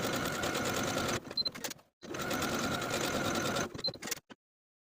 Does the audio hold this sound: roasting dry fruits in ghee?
no